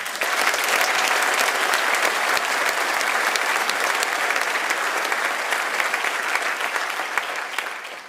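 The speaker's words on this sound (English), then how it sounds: "Please join me in a round of applause and appreciation of our outstanding faculty." Steady, dense applause from an audience at a high school back-to-school night, honoring the faculty, loud and unbroken for several seconds before tapering slightly at the end.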